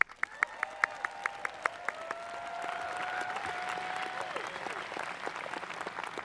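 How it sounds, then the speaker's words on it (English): Graduates at a Vassar College commencement receive steady applause from the audience, opening with sharp distinct claps that quickly merge into a broad, sustained wash of clapping that holds through to the end, with a faint tone running through the middle. "Let's clap for the graduates."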